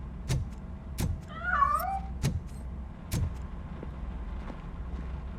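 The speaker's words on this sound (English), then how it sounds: "That cat must be hiding inside." A cat in the video game Robocop Rogue City gives a short, high, wavering meow in the middle, set between several sharp thuds and clicks over a steady low background hum.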